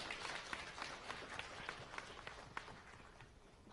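Audience applause for a presenting team at a game creation audition event, a steady wash of clapping with scattered sharper claps throughout, moderately distant and sustained.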